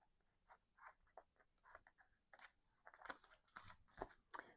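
Scissors snipping off excess tape on a tri-fold paper mini album: a series of short, close cuts and crinkles, faint at first and growing busier and louder toward the end.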